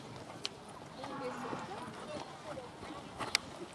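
Horse hooves clip-clopping on a riding arena surface during a dressage test, a soft steady footfall rhythm at moderate distance beneath continuous talk throughout.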